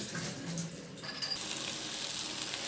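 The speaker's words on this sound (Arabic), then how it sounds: "بعد ما نزلنا بالرز هنقلبه مع بعض كويس جدا، نشوحه في الصلصه بتاعتنا" Rice stirred in a pan with shrimp sauce, carrots, tomato and spices, a soft steady sizzle with faint scraping, no talking.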